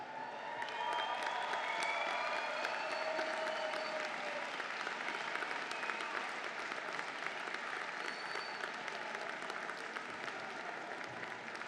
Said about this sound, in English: Turn around, point to them, and give them a round of applause.